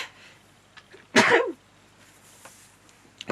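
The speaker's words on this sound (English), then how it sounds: "Oh, I need to sneeze." A single sharp sneeze bursts out close by, loud and brief, amid an otherwise quiet room with faint background sounds.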